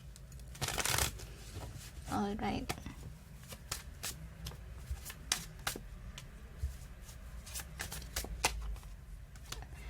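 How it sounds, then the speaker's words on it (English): Tarot cards shuffled by hand in a series of quick riffling bursts followed by light crisp taps, close and fairly quiet, with a brief spoken word near the start. "They want to shuffle once again."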